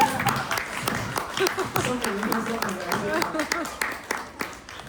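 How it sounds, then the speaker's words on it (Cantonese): Audience clapping at a speaking event: a scattered, moderately loud patter of hands running throughout, with a voice talking over it. "咁快俾啲掌聲"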